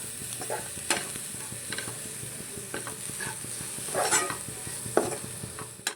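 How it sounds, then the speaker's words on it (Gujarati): Spices, chilli and salt sizzle in a pan as a spoon stirs them for kachori filling, a soft continuous frying hiss broken by scraping clinks and taps, close and fairly quiet with no talk. "હવે આ બધા મસાલાને આપણે જરાક આમ હલાવી લઈશું"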